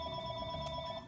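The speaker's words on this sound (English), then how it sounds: "So my phone is ringing." A phone rings nearby, a steady electronic tone with sustained pitched layers lasting the whole second, moderately loud over a faint room background.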